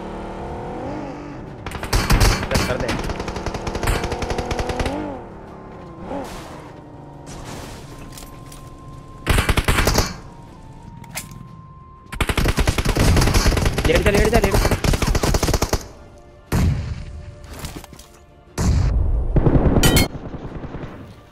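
Automatic gunfire in the BGMI battle royale game comes in loud, rapid bursts separated by quieter stretches of game ambience, with faint talk in places.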